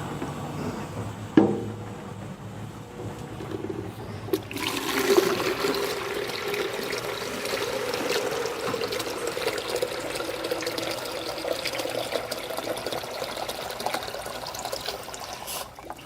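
Three quarts of water poured into a container for a cherry amaretto freeze, starting with a clunk and then a continuous gushing, trickling stream, fairly quiet and unbroken.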